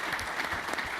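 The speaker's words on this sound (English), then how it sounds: "Please give him a round of applause." An audience at a panel discussion about who owns history claps steadily, a dense and even wash of applause that fills the whole brief moment.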